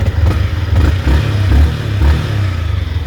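A 125cc motorcycle engine revs through its exhaust, close and loud, with several throttle blips rising and falling in a rough pulsing rhythm, no talking.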